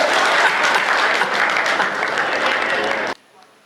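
Audience applause at a humorous Hindi political speech fills the hall, a dense, steady wash of many hands clapping for about three seconds before cutting off abruptly to near silence.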